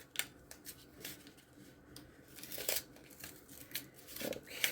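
Several quick snipping and crinkling sounds, close by and fairly quiet, scattered irregularly with brief rustling in between.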